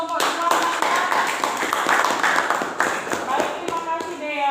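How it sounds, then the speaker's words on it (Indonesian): A group of students in an Indonesian teacher-training classroom claps together, with sharp, rapid hand claps that are close and loud and run continuously for a few seconds, with voices faintly mixed in. "beri tepuk tangan untuk kelompok 2 masyarakat."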